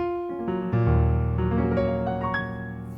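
Piano notes play in a short sequence, chords and single tones ringing and overlapping, moderately loud and clear.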